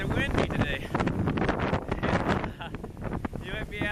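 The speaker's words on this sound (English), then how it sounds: "It is windy today." Strong 25 mph wind buffets an outdoor pigeon-hunting spot, roaring and gusting steadily across the microphone.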